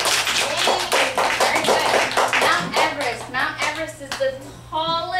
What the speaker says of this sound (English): Can we give a hand a clap to James?